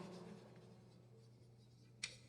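Marker or chalk scratching across a board in a faint continuous stroke, ending in a couple of sharper taps, near and quiet with no voices.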